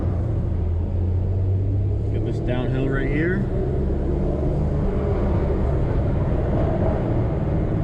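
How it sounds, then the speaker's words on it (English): A Dodge Challenger ScatPack's exhaust drones low and steady from inside the moving car, a continuous rumble running under a brief spoken line. "So hopefully you guys can just enjoy the exhaust for now a little bit more."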